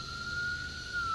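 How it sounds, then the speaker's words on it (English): A wailing emergency vehicle siren, police or fire truck, sounds as a steady sustained tone, loud and continuous against a background rumble, with no talking. "When you hear that siren,"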